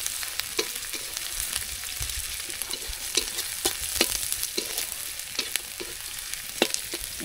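Onion frying in a pan as the base for a fish curry, a continuous close sizzle with scattered sharp crackles and pops throughout, no voices.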